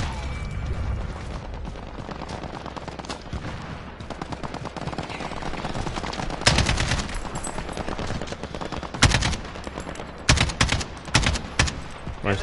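Video game gunfire in sharp, loud bursts of rapid automatic shots, with heavier cracks in clusters toward the end against a steady background of battle noise.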